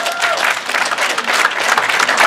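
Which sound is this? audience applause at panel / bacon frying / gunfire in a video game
audience applause at panel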